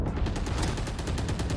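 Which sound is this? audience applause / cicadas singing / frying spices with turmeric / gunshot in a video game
gunshot in a video game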